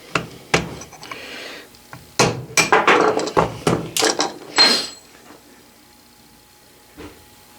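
Brass punch tapping out parts of a 3-jaw scroll chuck in a machine shop, a series of sharp metallic knocks and clanks, clustered mid-clip and then trailing off with a faint final tap.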